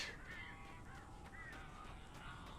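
Crows cawing in the video game Alan Wake Remastered, harsh repeated caws rising over a quiet, low ambient background.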